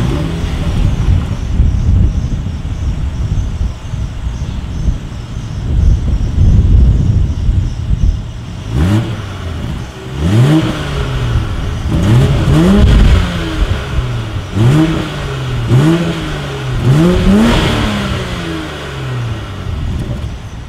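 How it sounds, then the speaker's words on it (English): A 2020 BMW X5 idles with wind buffeting, then revs repeatedly in sharp bursts, the exhaust note rising and falling several times, loud and close. "As always, here is that exhaust clip."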